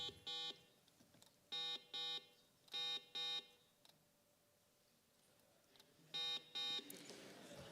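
Quiz bowl buzzer system being tested at a competition: short electronic buzzer tones sounding in quick pairs, with quiet gaps between bursts in a hushed room.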